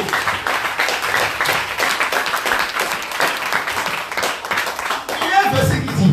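A church congregation claps and cheers for Jesus in dense, continuous applause that runs throughout, loud and close, with voices mixed into the crowd.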